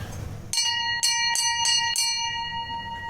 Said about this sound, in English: You want to ring a bell?